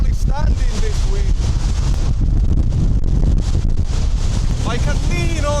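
Strong blizzard wind buffets the microphone on an island, a loud continuous roaring gust that never lets up, with someone speaking briefly over it.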